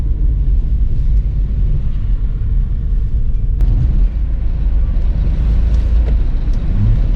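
A Triumph Vitesse 6 1600 drives along a seafront road in Scarborough, heard from inside as a steady loud engine and road rumble with one brief knock partway through.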